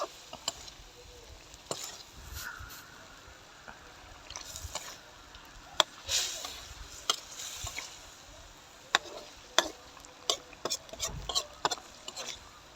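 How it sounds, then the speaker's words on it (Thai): Eel stir-fried with holy basil in a pan, with scattered sharp clinks and scrapes of a utensil over a faint background sizzle, and a voice talking now and then. "ผัดไปเรื่อยจนกลัวมันจะสุกครับ"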